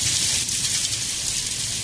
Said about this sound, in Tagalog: Ay, umulan.